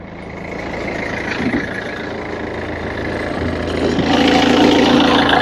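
A Hyundai Verna diesel CRDi engine idles with a steady, loud, close rumble that swells slightly toward the end.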